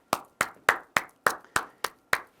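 Eight sharp, evenly spaced hand claps ring out close and loud in a quick steady rhythm, with no voices over them.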